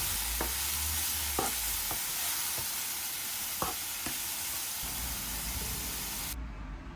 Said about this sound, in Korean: 소금을 살짝 넣어주시고 볶아주시면 돼요